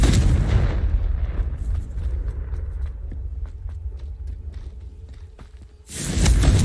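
A Confringo blasting spell in a video game lands with a heavy booming burst, trailing into a low rumble with scattered creaks and clicks, before another loud blast at the end.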